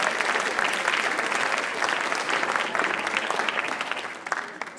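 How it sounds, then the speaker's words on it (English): An audience at a writers expo applauds an impromptu poetry performer steadily, dense clapping throughout, beginning to thin out near the end. "Let's give her a round of applause."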